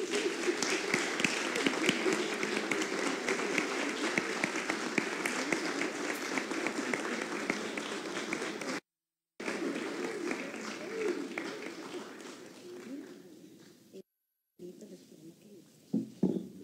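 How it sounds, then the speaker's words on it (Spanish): Audience applause at a government ceremony in El Salvador honoring early childhood, a steady dense clapping that runs loud and continuous, then thins and fades toward the end after brief gaps. "el aplauso de todos"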